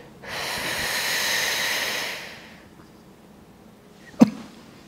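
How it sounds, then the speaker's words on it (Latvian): A single long, forceful breath pushed out in a breathing exercise, a close, breathy rush lasting about two seconds, followed by quiet and a short sharp sniff or snort near the end. "Sākumā es parādīšu elpu, tad ir ieelpa, kā jau elpojām."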